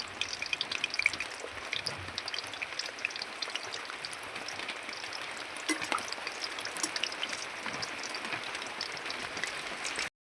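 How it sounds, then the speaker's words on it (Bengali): Khaja pastry deep fries in hot oil, a continuous soft sizzle and crackle with scattered pops, steady and fairly faint, while rain falls outside. "এবারে আমি ভাজাটা ভেজে নেব"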